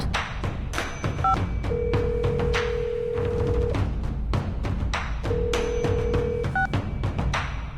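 Telephone dialed in the video game Reverse: 1999: a few short paired keypad beeps, then a long steady tone, repeated twice over dense game music.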